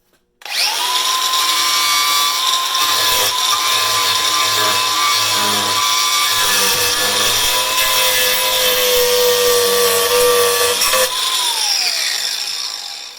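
A DeWalt DCG412B cordless 4.5-inch angle grinder fitted for wood cutting whines loudly and continuously as it bites into wood, close up, winding down at the end.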